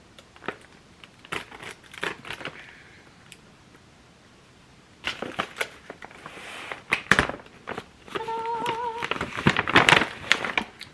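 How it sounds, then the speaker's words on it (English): Scissors snipping open packing tape on a package, a series of sharp close crinkles and cuts in uneven bursts with brief quiet gaps, no talking. "Let's grab the handy dandy scissors here. I'm gonna snip this tape open."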